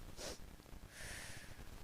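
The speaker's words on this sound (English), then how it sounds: "And then a single sniff is just" One short nasal sniff for a breathing exercise for chronic cough and vocal cord dysfunction, then a sustained breathy exhale through pursed lips, close and soft with no speech.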